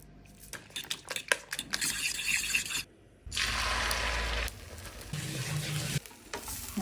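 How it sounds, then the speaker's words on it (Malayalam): A goose egg fries in a pan with onion, green chilli and curry leaves nearby, giving bursts of crackling sizzle broken by short pauses and clinks of a utensil, close and moderately loud. "കൊറേ നാളായി മുട്ട പൊരിക്കുന്നു."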